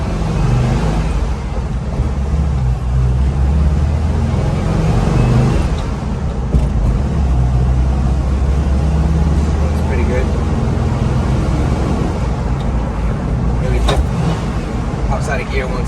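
A car fitted with lowered spindles and new shocks drives along, its engine and road rumble steady and fairly loud throughout, with a few brief rattles.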